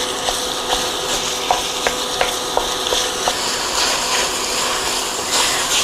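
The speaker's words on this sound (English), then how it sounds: "What I'm doing is breaking up the sausage, and we're going to cook this until it is no longer pink." Sausage sizzles in a pot while a utensil breaks it up, giving a loud steady frying hiss marked by regular light taps and scrapes against the pot.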